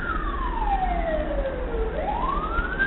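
Sirens from ambulances and a police car wail continuously in the street, a loud sweeping tone that falls and then climbs again, close by over low traffic rumble, with no talk.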